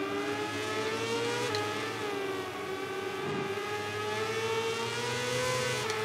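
Racing motorcycles in the MotoGP 18 video game, including the VR46 machine, battle in a close race with a rider in the slipstream. Their engines give a loud, continuous high-revving whine that rises and falls in pitch, with no talk over it.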